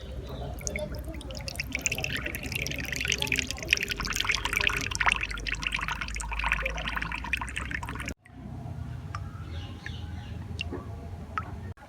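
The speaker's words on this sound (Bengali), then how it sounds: "এখানে আমি একটা ছাঁকুনি নিয়েছি ছাঁকুনি দিয়েই ছেঁকে নেব" Cooled homemade neem oil is strained through a kitchen strainer, making a close, continuous liquid trickle and dripping that stops abruptly partway through, leaving a quieter stretch of faint drips.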